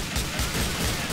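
Gunfire in GTA 4 fills a short stretch with a dense, continuous burst of shots under a steady loud wash, with no clear pauses between rounds.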